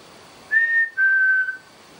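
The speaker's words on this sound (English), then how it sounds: "If I whistle, can you whistle back?" Two sustained whistled tones, the first slightly higher than the second, sound clearly in a quiet room, each lasting about half a second with a short gap between them.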